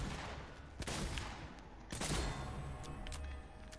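Rapid gunfire bursts from a video game shooting match, loud and dense with several sharp cracks standing out over a continuous rumble of battle noise.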